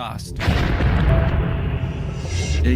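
A supernova explosion's shock wave is rendered as a deep, rumbling boom. It swells in after a brief quiet opening and then rolls on loudly as a dense, sustained low roar.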